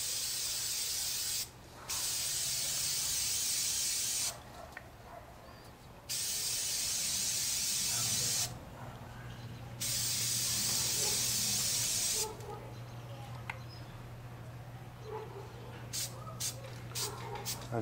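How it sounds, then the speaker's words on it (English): K&N air filter oil spray hisses from an aerosol can in several long bursts of a few seconds each, separated by pauses, close up over a low background hum, oiling a cold air intake filter. "Let's cook this up with the K&N air filter spray, air oil."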